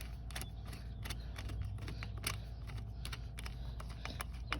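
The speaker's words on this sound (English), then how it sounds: "just screw in until you can't screw in anymore." A Phillips screwdriver tightens the intake screw on a Lexus IS cold air intake install, giving faint, irregular little clicks and scrapes up close against a steady low hum.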